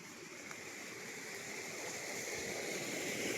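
A small spring-fed stream flowing on a farm lot gives a faint, steady watery rush with a slight swell toward the end and no voices.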